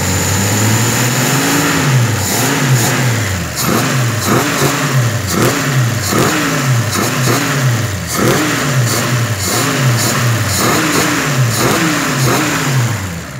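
A Chevrolet Opala engine revs hard in repeated rising bursts, climbing in pitch and dropping back between pulls, loud and close with no talking.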